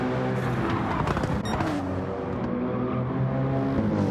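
Race car engines roar loudly and steadily as one car passes a BMW on the outside of a turn, with a harsh, buzzing engine drone that shifts in pitch.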